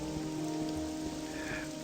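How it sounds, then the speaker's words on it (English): Rain falls steadily in the video game Morrowind, an even patter of drops on surfaces with no voices over it. "Ooh, got some rain."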